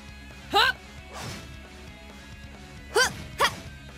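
A Shatter attack effect in the video game Trails of Cold Steel: three loud, bright smashing hits, one early and a quick pair near the end, separated by softer whooshing impact and low game background sound.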